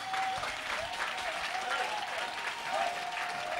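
Church congregation applauding, a steady wash of clapping from a crowd that holds through the whole stretch, with voices calling out over it.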